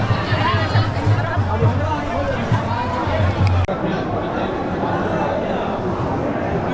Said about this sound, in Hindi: यहाँ सबसे ज़्यादा भीड़ है।